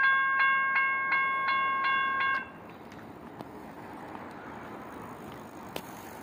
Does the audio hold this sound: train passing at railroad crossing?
yes